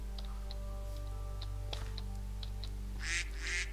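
A duck in Minecraft quacks in short, sharp repeated calls over a steady low electrical hum, with soft clicking between them and a brighter burst near the end.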